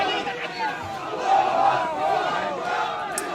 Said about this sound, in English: Throwing a couple Allah Akbars too